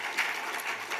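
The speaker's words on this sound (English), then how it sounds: "Can we all give Peter a round of applause for joining us?" A conference audience at a business summit claps in a brief, dense burst of applause, steady and moderately distant.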